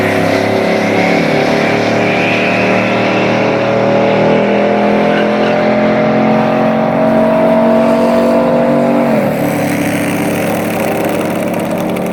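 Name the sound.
Ford Mustang drag racing launch off the line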